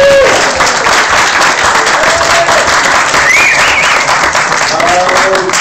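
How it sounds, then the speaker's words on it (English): A crowd claps loudly and continuously for a contestant, many hands forming a thick, even burst of applause with a few voices faintly mixed in. "definitely a clap in many places there"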